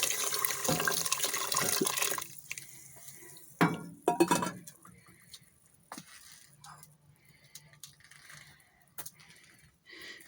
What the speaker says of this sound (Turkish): Şimdi kaynar suyumuzu döküyoruz üzerine.